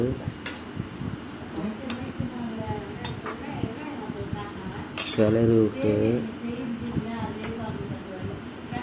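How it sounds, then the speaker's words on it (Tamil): Vermicelli being stirred in a pot, with a spoon scraping and clinking against the metal in a steady rhythm throughout, close and fairly loud, under speech. "கொட்டிட்டு கொஞ்ச நேரம் இது மாதிரி கிளறி விட்டு"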